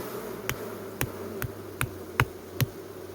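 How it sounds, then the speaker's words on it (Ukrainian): Honeybees hum steadily after a hive frame is shaken to stir them up. Sharp knocks sound at a regular pace, about two each second, over the close, continuous drone. "ось цю рамочку центральну, щоб активувати бджіл, ми стрісаємо її"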